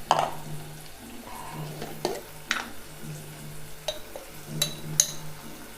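Chicken frying in a pan with turmeric, a steady sizzle broken by scraping stirs and metal spoon clinks against the pan, close and fairly loud, no talking.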